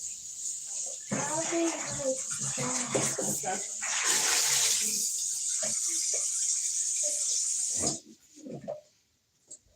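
Tap water runs steadily while peppers are rinsed in a home kitchen sink for curry, with a voice talking over the flow during the first part before the water cuts off and a few handling clatters follow.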